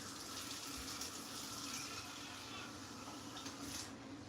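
Hot water pours steadily from a tap for pretzel dough, a constant close hiss and splash that runs unbroken throughout.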